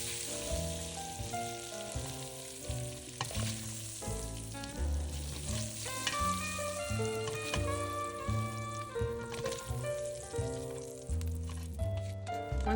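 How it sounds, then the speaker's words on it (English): Sausage frying in a pot for gumbo, with a continuous close sizzle and crackle, and a few scraping stirs and clinks of the utensil against the pot, no talking. "our sausage is looking good, so we're going to give that like one last stir and scoop those out"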